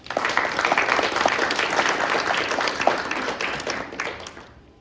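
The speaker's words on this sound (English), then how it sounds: "Let's give them a round of applause." An audience at a community charity event gives a full round of applause, dense clapping that holds strong and then tapers off to silence at the end.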